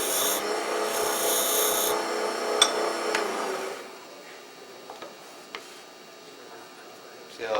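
A light whisper cut on a wood lathe while loosening a lid fit: a soft, steady rasping scrape for a few seconds, then quieter with a few sharp ticks and taps.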